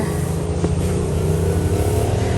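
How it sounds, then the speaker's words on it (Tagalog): Motor tricycle engine running close by, a loud continuous low rumble with steady throbbing, no voices. "At yung pong bigas ay isasakay po natin sa tricycle."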